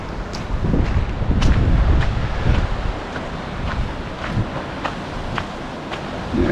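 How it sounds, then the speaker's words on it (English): Wind blowing hard by the open sea at Bass Harbor Head Lighthouse, Acadia National Park, in February, with roughly three-foot swells rolling over the Bass Harbor Bar; a steady, loud rushing roar buffets the microphone for the whole stretch. "You can hear the wind blowing out there, and there's some pretty good sized swells on the Bass Harbor Bar,"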